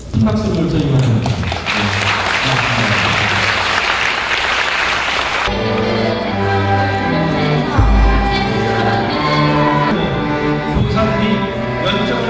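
Sustained, loud applause from an audience at a formal agreement-signing ceremony between Jecheon city and the Chungbuk education office, steady clapping that carries on for several seconds, then gives way to music.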